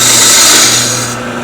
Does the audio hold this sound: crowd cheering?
no